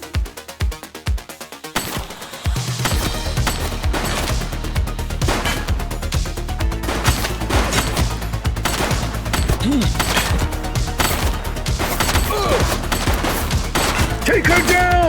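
Sustained heavy gunfire from a police shootout in The Precinct video game, dense rapid bursts of shots running continuously after a brief quieter opening, loud and close with a music bed and faint voices underneath.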